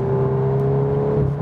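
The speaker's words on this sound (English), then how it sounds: "Just what you hear is all with this engine sound" Steady engine hum of a 2021 VW Golf 8 R with its 320 hp engine while driving, heard from a well-insulated cabin as a continuous low drone with a faint rise near the end.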